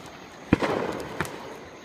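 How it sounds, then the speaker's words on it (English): A firework cake goes off during Fourth of July celebrations: a sharp loud boom, then a crackling burst, and a second bang about a second later, heard from a moderate distance. "We got a cake going off back there"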